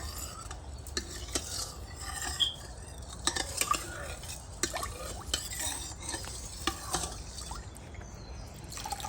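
A spoon mixes chicken cafreal ingredients in olive oil inside a pan, giving a run of close scraping strokes and sharp metal clinks against the cookware, with no voices.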